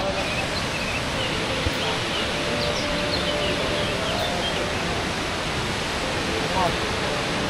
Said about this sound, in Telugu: గైస్ మీరు ఎప్పుడు చూడని వాటర్ ఫాల్స్ నేను చూపిస్తాను